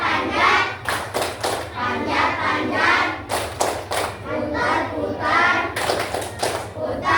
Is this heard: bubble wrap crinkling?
no